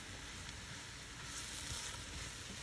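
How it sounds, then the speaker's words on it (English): Mushrooms sautéing over a high flame for a Kerala mushroom theeyal, giving a steady, dense sizzle and crackle that holds evenly throughout with no talking. "I've sauteed the mushroom in a high flame for maybe 3-4 minutes"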